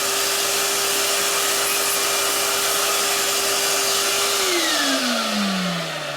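A valve seat cutting machine works a Sportster 1200 cylinder head, giving a steady high whirring motor drone with a strong sustained tone that drops in pitch as it spins down near the end; no talk.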